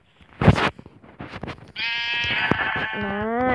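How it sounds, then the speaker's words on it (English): Sheep in the Minecraft video game bleat in a long, wavering call that trails off lower, preceded by a few short thumps and shuffling sounds. "Where's another sheep? There it is."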